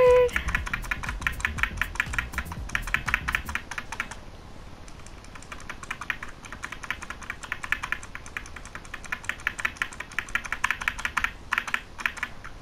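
Rapid, steady keyboard typing, close and fairly loud, continuing through most of the stretch with a brief pause near the start; a short low sound opens it.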